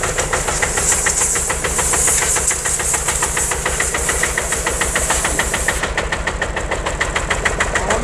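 Single-cylinder 12 hp engine of an Allgaier A111 tractor running steadily close by, a fast regular chugging knock with hissy exhaust, loud and continuous with no talk.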